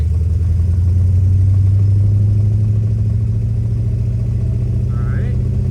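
A 1958 Plymouth barn find, back on the road after 30 years, rolls along very slowly, its engine holding a loud, steady low rumble that stays close throughout.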